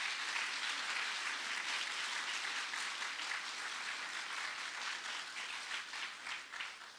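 An audience at an elementary school dedication ceremony gives a steady round of applause, with full, even clapping that holds throughout and tapers slightly near the end.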